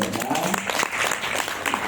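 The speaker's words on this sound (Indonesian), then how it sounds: "Tepuk tangan dulu Bapak Ibu." An audience at a Generali training event in a Bali hotel claps at length, dense, continuous applause with a voice speaking over it.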